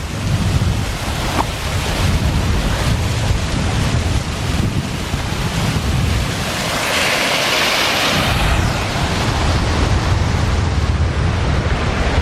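Lake outflow in a backcountry Idaho setting rushing down over rocks toward waterfalls, a loud, steady broadband roar of moving water mixed with gusts of wind buffeting the microphone.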